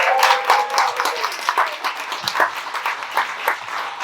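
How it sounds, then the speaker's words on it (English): Wedding guests clap together during a speech, a lively burst of many hands with uneven, overlapping claps that stays strong throughout, close and full. "So can we have a round of applause for Carl's Barnet?"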